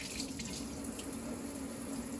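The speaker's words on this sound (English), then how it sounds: "We're going to turn on the sink with the paper towel because there could be bacteria." Warm water runs steadily from a sink faucet for hand rinsing, a continuous close splashing hiss with a faint ringing tone, alone with no voices.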